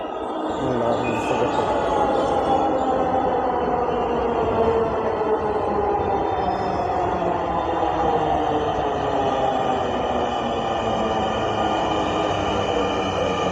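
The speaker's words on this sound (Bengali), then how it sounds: "এই মাত্র মতিঝিল থেকে একটি ট্রেন আসলো" A crowded metro train arriving from Motijheel rumbles into the station loudly and steadily, its hum and rolling wheels filling the space without pause.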